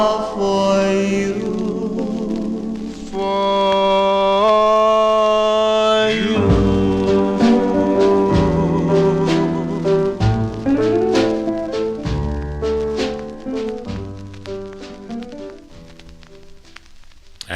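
Old 1954 78 rpm record of a doo-wop song on the Red Robin label, with vocals and backing music over a steady crackly surface hiss, moderately loud throughout.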